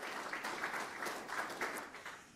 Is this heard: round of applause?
yes